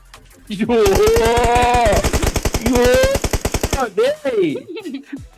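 Rapid automatic gunfire in the mobile game PUBG Mobile rattles in fast, loud bursts for several seconds while a person talks excitedly over it.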